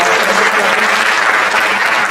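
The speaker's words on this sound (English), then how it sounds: "I think she deserves another big round of applause" Dense, loud applause from an audience after an Arangetram classical Indian dance recital, a continuous even wash of many hands clapping close by, without any voices.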